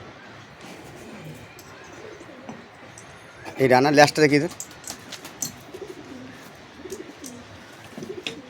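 Teddy pigeons being handled give a short burst of loud, rolling coos in the middle, while someone talks on and off nearby throughout.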